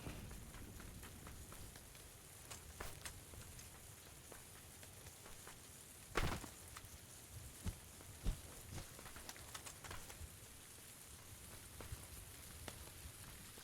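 Steady rain patters and hisses across the whole stretch in PUBG, with occasional sharper drops and a louder splash midway, quiet and unbroken by voices.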